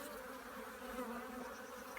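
Honeybees at an open hive during an inspection give off a steady, close swarm of buzzing that hums evenly and quietly throughout.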